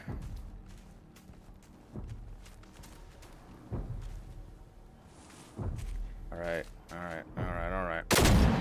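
Angry tank robot in the video game Generation Zero firing its guns, repeated heavy shots and impacts at irregular intervals, with mechanical rumbling and a loud blast near the end.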